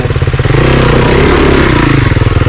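An enduro motorcycle engine revs hard and close, its throttle held open in a loud, steady roar that pulses slightly as it climbs and falls.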